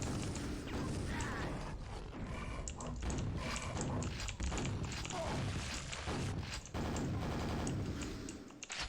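Shotgun blasts and other gunfire ring out in the video game Quake amid dense, loud in-game combat noise, with mechanical creaks and clanks throughout.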